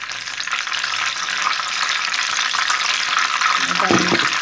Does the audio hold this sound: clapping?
no